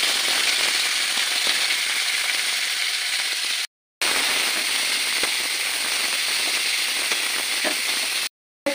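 Chopped onions frying in hot oil with whole black peppercorns give a loud, steady, close sizzling hiss with faint crackles, broken by two brief silent gaps.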